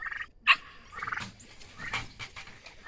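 Growing farm turkeys gobble in a nearby pen, several quick warbling calls with a sharp peak early on, faint and close with no talk.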